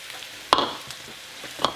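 Squash, corn and garlic hitting a hot pan, with two sharp bursts of sizzle and clatter about a second apart over a quiet, faintly hissing background.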